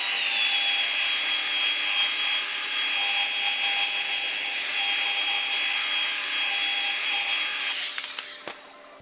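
A rotary machine polisher runs steadily with cutting compound on a Tesla Model Y front bumper, a continuous rough, abrasive whir that holds constant for about eight seconds before winding down and stopping.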